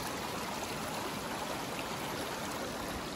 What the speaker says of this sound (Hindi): देखो पानी का आपको आवाज आ रहा होगा